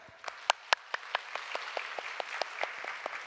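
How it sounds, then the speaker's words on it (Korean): A church congregation claps during a worship service, the applause thin and fairly sparse, with individual distinct claps spaced out and a few louder nearby hits over a soft spread of more distant clapping. "우리 한번 이 20여 년 동안 열심히 수고해온 이 변혁에 수고해온 공동체 안에 여러 형제 자매들께 한번 박수를 보내면 어떨까요?"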